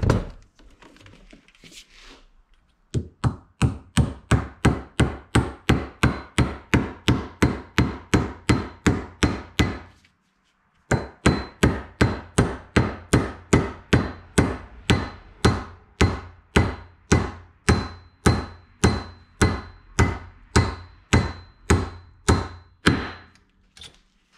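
Install tool hammered into place, a long run of steady, evenly spaced metallic blows, close and sharp, pausing once before resuming at the same brisk rhythm.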